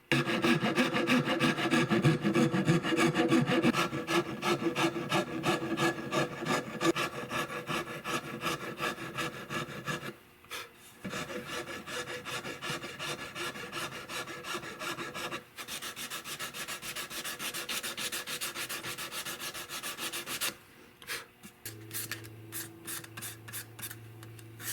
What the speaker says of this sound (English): I'm fixing to cut that center line off with a rasp